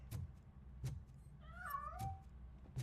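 A video game cat meows in a drawn-out, wavering cry as it escapes, heard alone between soft, regular thumps.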